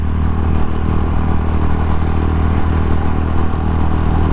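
A stock Rusi Classic 250 motorcycle rumbling loudly and steadily nearby, its engine drone dense and constant throughout with a faint clattering edge, no voices over it.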